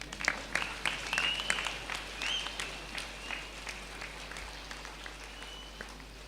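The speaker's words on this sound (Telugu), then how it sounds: "చప్పట్లు కొట్టండి" Audience applause at an indoor meditation gathering, a steady wash of many hands clapping at moderate loudness that gradually thins out over several seconds, with no speech.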